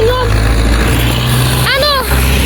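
A long convoy of motorcycles, Harley-Davidsons among them, rolls past in a continuous low engine drone that fills the whole stretch, with a voice cutting in briefly near the end.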